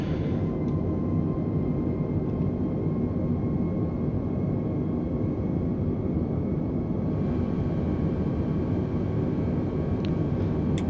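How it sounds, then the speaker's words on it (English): An airliner approaches to land in a flight simulator game, with a steady, loud engine rumble and drone that holds constant throughout. "hearing all these planes approaching every day"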